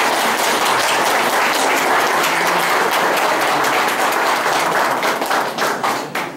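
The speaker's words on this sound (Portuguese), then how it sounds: "a igreja vos aclama com uma salva de palmas" A church congregation at a wedding Mass applauds the newlyweds with dense, loud, sustained clapping that holds steady for several seconds before thinning out at the end.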